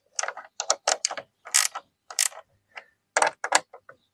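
A hand tool ratchets in short bursts of clicking while a bolt on a Tuareg 660 skid plate is tightened, the quick close clicks coming in separate groups with short pauses between.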